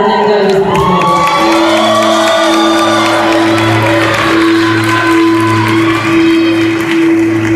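A concert crowd cheers, whoops and shouts with some clapping. The dense, loud roar carries a sustained tone throughout, with excited voices rising over it.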